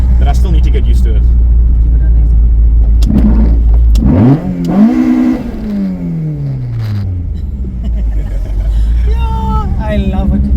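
A 2-litre 16-valve ABF engine with individual throttle bodies in a Mk1 Volkswagen Golf roars close by, then revs sharply upward and winds back down, with faint voices in the background.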